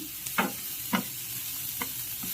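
Onions and green chillies frying in a pan with a steady soft sizzle, broken by three or four short scraping stirs.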